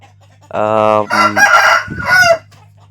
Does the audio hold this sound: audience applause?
no